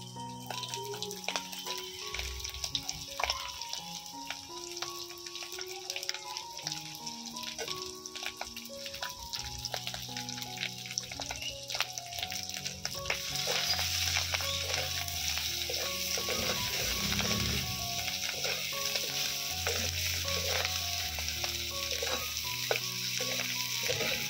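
Potatoes fry in oil in a pan with a continuous close crackling sizzle and occasional stirring scrapes that grow louder and denser toward the end.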